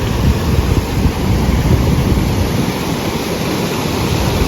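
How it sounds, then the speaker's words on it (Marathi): A loud, constant rush of churning floodwater fills the scene in Nashik, a heavy roar of waves over a bridge with wind buffeting the microphone. "पाण्याचा लाटांचा आवाज बघू शकता किती बेकार येतो"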